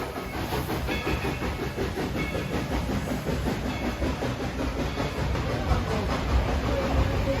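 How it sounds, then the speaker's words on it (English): A theme park train at Dollywood rolls past nearby, a continuous loud rumble with hissing steam and a steady rhythmic clatter of wheels throughout. "No matter how many times we see the train goes by, it never gets old."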